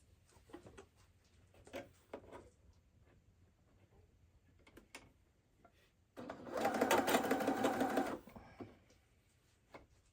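A freshly oiled and cleaned sewing machine runs in a steady burst of about two seconds, a close mechanical whir following scattered light clicks and handling noises.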